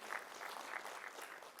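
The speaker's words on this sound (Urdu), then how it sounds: "جن کے لیے ایک بار تالی بجائیے بھائی" Faint, distant clapping from an audience at a Sufi gathering, a soft steady patter of many hands with no voices over it.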